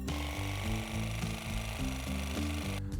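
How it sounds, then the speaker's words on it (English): A power saw, a hole saw or jigsaw, cuts a circle in wood with a steady, droning, close buzz that pulses slightly in rhythm, then stops abruptly near the end. "Next, I'm going to cut out the circle on the bottom piece. You can use a hole saw or a jigsaw."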